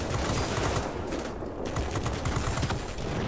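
Aircraft machine guns on an XF5U fighter in World of Warplanes fire in a dense, continuous stream of rapid shots, loud and close, with no pause across the whole stretch.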